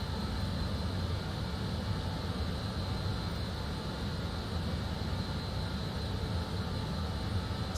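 Steady, even roar of BAE146 airliner jet engines cruising in flight in Microsoft Flight Simulator 2020, a constant broadband drone with a faint high whine, unbroken throughout and with no talk over it.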